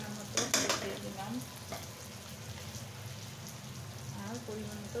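Spices, red chilli powder and roasted cumin powder, fry in oil in a pan for a tilapia fish curry. A soft, quiet sizzle with a few brief clinks of stirring comes early on.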